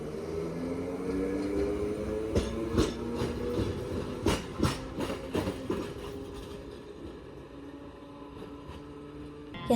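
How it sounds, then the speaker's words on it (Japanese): A white Portram tram pulls in along a street line in Toyama, its motor whining and humming under a run of rattling rail clacks and thumps, with no voices. "やってきたのはポートラム"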